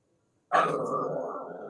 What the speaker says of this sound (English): I have the littlest dog on the largest bed over here growling